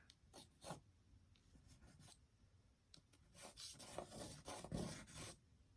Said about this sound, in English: Scribble a line there.